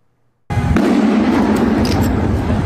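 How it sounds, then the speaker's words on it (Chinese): A factory explosion erupts suddenly after brief silence into a loud, dense roar of blast and crackling debris that continues unbroken for about two seconds. "实在太可怕，疯狂爆炸，"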